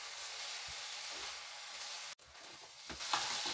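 Fried Manchurian balls being stirred in sauce in a pan, a steady close sizzle and hiss with a few soft spoon scrapes, one brief dropout midway.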